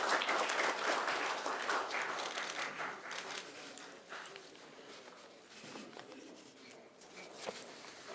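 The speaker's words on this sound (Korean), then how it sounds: "큰 박수로 김종인 박사님을 환영해 주시길 바랍니다" A crowd applauds at a book launch event to welcome Kim Chong-in, with loud, dense clapping at first that gradually thins and fades over several seconds.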